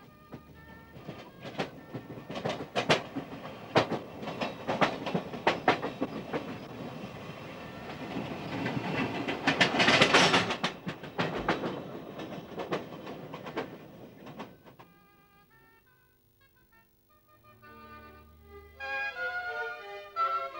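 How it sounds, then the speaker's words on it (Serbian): An old narrow-gauge steam train rolls along a mountain line with a rhythmic clickety-clack of wheels and rattling cars that swells, then fades into quiet, with soft musical tones at the end. "Ćiro, evo ponekad opet klapara i kašlje vrletnom krajinom"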